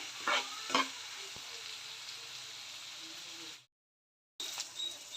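Onion, tomato, garlic and curry leaves sizzle and fry in a pan for a Tamil Nadu style tamarind curry, with a few stirring scrapes early on, then a brief gap of silence before the frying resumes.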